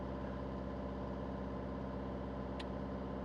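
An Isuzu 4JJ1 diesel engine holds steady revs, giving a constant, even drone at moderate volume with no talking and a single brief tick partway through.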